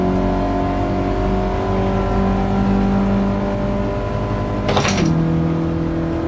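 A Volkswagen Golf GTI Mark 1 engine in Gran Turismo 7, droning loud and steady at sustained revs, then a brief crackling jump near the end as the pitch drops to a lower settled note.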